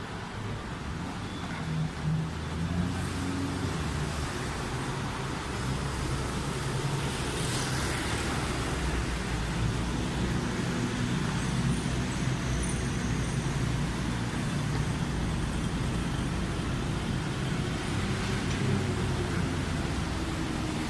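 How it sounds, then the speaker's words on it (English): After-office-hours city road traffic flows past in George Town, Penang, a constant, even roar of cars and buses that stays loud and steady throughout. "The traffic volume is picking up again because I guess now it's after office hour, so people are going home and driving home."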